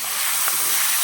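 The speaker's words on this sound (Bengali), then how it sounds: "এখন আমি এই ক্যাপসিকাম টমেটো এইগুলো এখন তেলের উপরে দিয়ে দিচ্ছি।" Capsicum and tomato fry in hot oil, giving a steady, close hiss of sizzling that holds evenly throughout.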